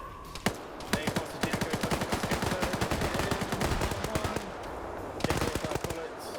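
Gunfire in a PvP military video game firefight: loud, rapid automatic bursts of shots, near and dense, with a short pause before another burst.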